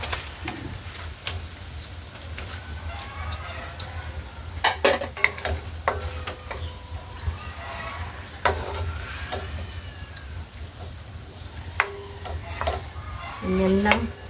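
Chicken liver cooks in a pan of boiling adobo liquid, with a steady bubbling sizzle and occasional stirring clatter and utensil clinks throughout.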